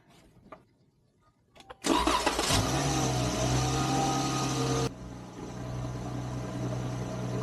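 A 2017 Dodge Challenger's 3.6-liter engine cranks after a few quiet clicks, catches and settles into a steady close idle that drops slightly in level partway through.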